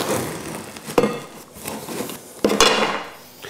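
A knife saws and chops through a loaf of bread on a board, a few crunchy strokes with sharp knocks against the wood, close and alone.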